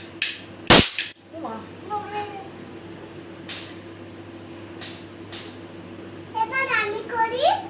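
A single firecracker bursts with one sharp, loud crack close by, and children's voices chatter and squeal before and after it.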